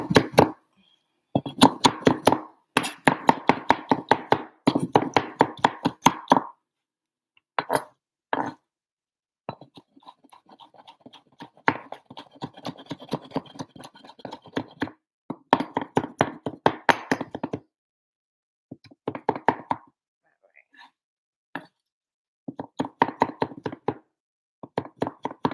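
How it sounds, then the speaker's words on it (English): A knife chops cooked cactus pieces on a cutting board for a vegan salsa, giving bursts of rapid, close, sharp taps separated by short pauses throughout. "now that it's cooked and everything can be cut smaller"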